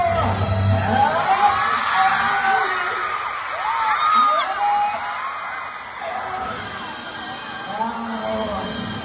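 A large crowd yells and whoops together in rising, overlapping shouts, loud and continuous, with a voice calling out above the noise.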